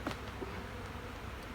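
Honey bees in an open spring hive, a strong colony filling the bottom box, give off a soft, steady buzzing hum throughout, close and low in level, with no talking.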